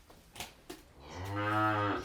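A dairy cow in a cow shed gives a single drawn-out moo, fairly close, after a few faint knocks and shuffles.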